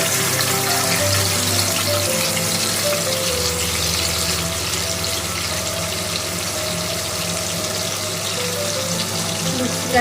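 Water poured into a pan of cabbage curry with blended spice paste, a continuous gushing and bubbling wash at fairly loud level, with a low steady hum underneath, no talking.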